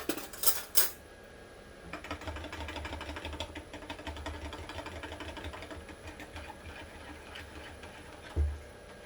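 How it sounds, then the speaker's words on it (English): Metal spoon stirring chicken stock in a deep purple pasta pot, with a couple of bright clinks at the start, then a steady low scraping and sloshing rumble and one more knock near the end. "I need to stir my stock."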